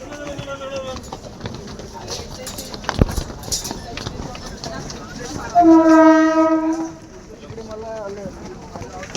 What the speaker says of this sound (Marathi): आलेली लोकल 7 वाजून 20 मिनिटांची कल्याणला जाणारी ही लोकल आहे.